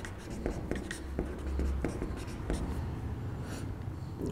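Chalk or marker writes on a board during a chemistry lesson in Hindi, producing scratchy strokes and taps in an uneven rhythm while a teacher talks over them.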